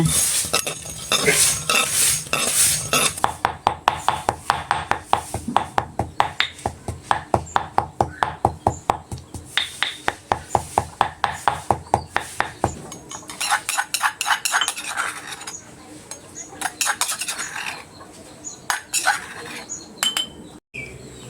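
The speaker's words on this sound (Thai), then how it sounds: "เราจะ ใช้งาดำนะคะนำมาคั่วไฟให้หอม" Black sesame seeds dry-roasted in a pan over low heat, heard as a fast, steady run of metallic scraping and clinking strokes of a spoon against the pan, loud and close, easing into softer rustling near the end.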